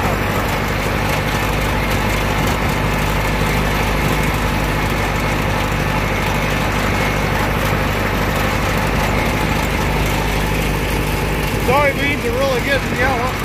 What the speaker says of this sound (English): Driving one of the tractors.